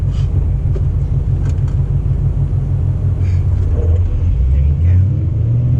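A Ford Mustang Bullitt GT with a manual gearbox rumbles and accelerates while driving. A low, steady engine drone fills the cabin throughout, with brief speech over it.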